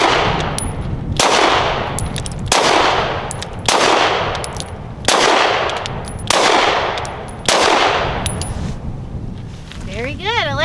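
Walther PDP Compact pistol fired in a steady series of seven loud, sharp shots roughly one to one and a half seconds apart, each ringing out with a long decaying tail.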